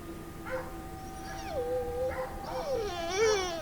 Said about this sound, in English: That night, the dogs wouldn't stop barking.